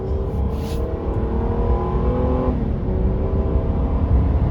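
A 2009 Hyundai Azera Limited with its 3.8 V6 pulls at about three-quarter throttle, the engine drone rising steadily and loud from inside the cabin, with a faint shift partway through and no talking.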